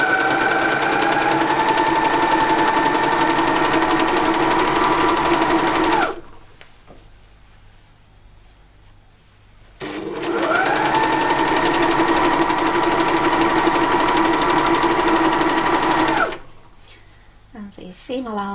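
A sewing machine stitching shirt pieces runs in two long, loud, steady bursts, its motor whirring at an even pace with a quiet pause between runs, close by.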